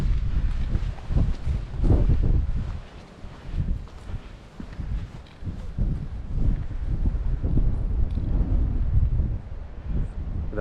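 Wind gusts buffet the microphone on a mountain trail in the Roan Highlands along the Appalachian Trail, a loud steady low rumble that swells and eases in uneven waves with no talk.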